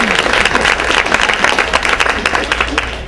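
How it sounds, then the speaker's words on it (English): Loud audience applause at a Black History luncheon, a dense wash of clapping from many hands in a hall that holds steady and tapers slightly at the end. "In Florida, you can applaud."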